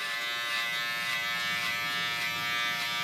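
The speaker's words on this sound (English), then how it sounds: "Go to my zero shaver" Electric zero-gap shaver trimming hair to soften a contour line, a steady close high-pitched motor buzz that holds constant throughout with no speech.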